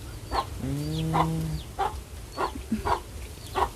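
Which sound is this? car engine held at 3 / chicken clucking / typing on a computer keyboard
chicken clucking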